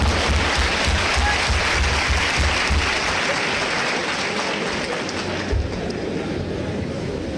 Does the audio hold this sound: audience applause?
yes